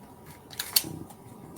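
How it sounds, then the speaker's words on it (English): A couple of quick, crisp snips of scissors cutting paper, close and fairly soft in a quiet room. "Cut it out with the scissors."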